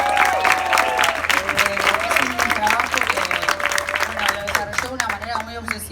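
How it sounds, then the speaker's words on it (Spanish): An audience applauds at a book presentation for an essay collection on cissexism and health, the clapping dense and sustained at close range, with some cheering and voices mixed into the crowd. "por pronto un aplauso a Anne."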